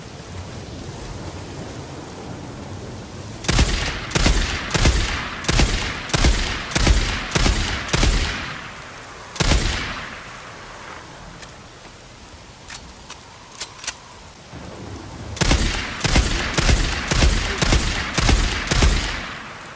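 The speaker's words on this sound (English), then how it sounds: "the BFG. It is simply a beast. A big fucking gun." A big gun fires in the video game Days Gone, delivering rapid bursts of loud, booming shots, then a single heavy blast, a quieter lull, and another fast burst of repeated shots.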